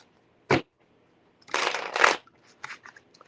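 A deck of playing cards being shuffled up close: a single quick riffle snap, then a longer riffle and bridge, and a few light taps.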